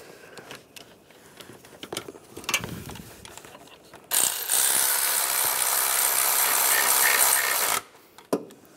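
Bolts on the VVT solenoid of a 2010-2016 Cadillac SRX are tightened with a ratchet, giving a close, loud, sustained rapid clicking for about four seconds after a few quieter handling taps and clunks.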